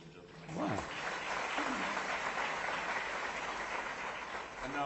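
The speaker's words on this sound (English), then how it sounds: "Let's give the sadhguru a round of applause, ladies and gentlemen." Audience applause at a live onstage conversation event, steady broad clapping held for several seconds at moderate level with a few vocal sounds mixed in.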